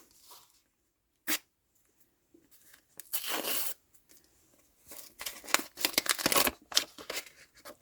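Paper sticker surprise packets are torn open up close, with a sharp rip, then longer ragged tearing and crinkling bursts separated by quiet pauses.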